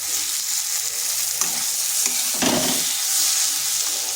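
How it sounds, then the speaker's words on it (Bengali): Green beans sautéed and stirred in a pan for a spicy bean dish, a steady loud sizzle with occasional scraping strokes of a spoon, no voices. "এটাকে এইভাবে কষিয়ে নিতে হবে"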